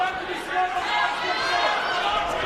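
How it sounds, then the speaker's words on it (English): Loud crowd roaring at an MMA fight between Chuck Liddell and Vitor Belfort, a dense sustained wall of cheering and chatter, strong and unbroken for the whole short stretch. "I had to pull my headset off to see if my speakers were distorting, and it was actually the crowd."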